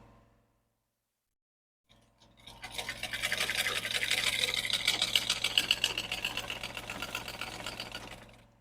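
A sewing machine stitches fabric with contrasting thread. After a couple of seconds of near silence, a fast, even mechanical whir and rattle of needle strokes starts up and keeps going close by.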